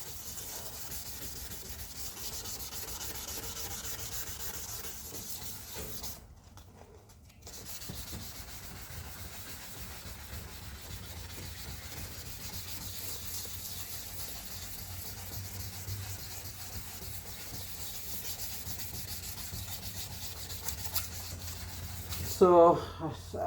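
Hand sanding of a car headlight lens with 320 grit sandpaper gives a continuous close rasping rub in steady back-and-forth strokes, with a short pause partway through and a few clunks near the end.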